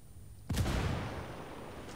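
A frag grenade detonates in the Ghost Recon PvP video game: sudden loud, deep boom after a moment of near-silence, followed by a long rumbling roar that fades slowly.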